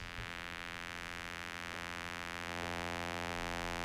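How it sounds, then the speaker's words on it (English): A Moog Labyrinth VCO plays a sawtooth wave through a Spectravox filter bank as one sustained, harmonically rich buzzing tone that holds steady and swells slightly louder partway through. "Start to hear our sawtooth wave come through."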